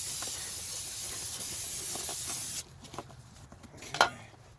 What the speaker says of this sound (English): these things can have cosmoline on them, so we just do a little spritz. Clean that off.